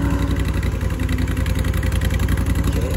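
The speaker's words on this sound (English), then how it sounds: "I'm gonna go ahead and crank the engine." Multiquip AR 14 vibratory compactor roller engine catching and running: a loud, steady mid-pitched mechanical chug with even rapid pulsing, close by and alone.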